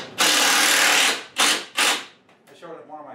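A DeWalt power tool whirs loudly in three close bursts, one long run followed by two short ones, each spinning up and cutting off, then a few fainter rattling sounds.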